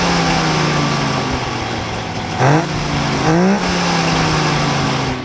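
A hot rod engine fitted with three carburetors runs at a steady, loud idle, with two short throttle blips that rise and fall in pitch, at a car show.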